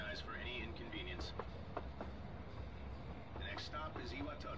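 Train running through a station in the video game Persona 3 Reload, a steady rumbling rail noise with faint clatter under continuous station announcements and background chatter.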